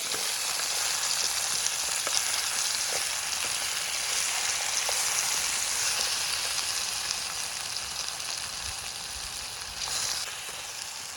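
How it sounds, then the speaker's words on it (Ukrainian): Potatoes fry in leftover sausage fat outdoors, a continuous sizzling crackle with scattered pops that fades slightly toward the end, no talking. "Бачите, після ковбасок у нас нарешті залишився жирок. Можна тепер картопельку сюди завантажувати."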